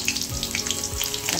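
Garlic and cumin seeds frying in hot oil give a steady, close, bright sizzle with soft crackling pops throughout a short burst, no voices.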